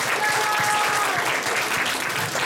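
An audience at a talent show claps for Łukasz's performance, steady dense applause from a crowd, loud and sustained throughout.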